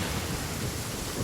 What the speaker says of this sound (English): Uh-oh! Lightning